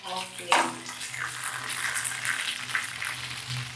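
Garlic and peanuts fry in hot oil for a tempering, a steady close sizzle and crackle running throughout with a sharper pop near the start, while a voice murmurs faintly in the background.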